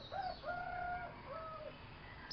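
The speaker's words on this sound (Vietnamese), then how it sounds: "Chẳng nhẽ gà lại gáy vào chập tối à?" A rooster crows at dusk, one drawn-out cock-a-doodle-doo heard faintly at a distance against quiet background noise.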